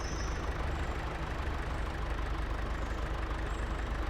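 A tractor engine in Farming Simulator 25 idles with a steady low rumble, a continuous even drone that stays constant throughout with no talking.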